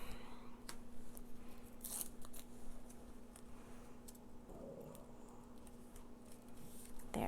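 Scissors snip through foam tape during card-making at a craft table, a few quiet, sharp cuts separated by pauses over a faint background hum.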